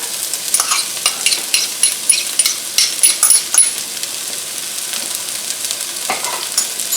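Chopped onions and ginger sizzle in a hot pan, a steady bright crackle with bursts of spitting as the pieces are stirred, close and without voices.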